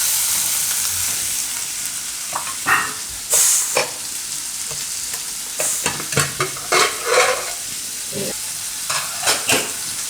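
Tomatoes and masala fry in a pan for a Gujarati green bean (fansi) dish, a steady close sizzle broken by repeated scraping stirs of a spoon against the pan.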